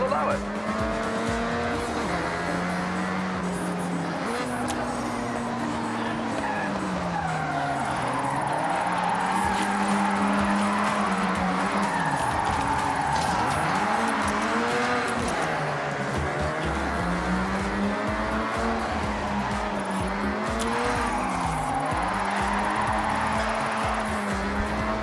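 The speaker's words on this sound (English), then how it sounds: "it's much better the way you can drift in this game" Rear-wheel-drive car drifting in the racing game Forza Horizon 6, engine droning and revving steadily throughout with sustained tire squeal over continuous loud game audio.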